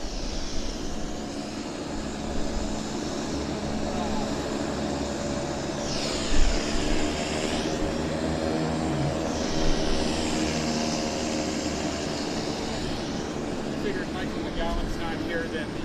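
A French Air Force Airbus passes overhead as a continuous, moderate engine rumble with swelling whooshes. Voices talk over it throughout.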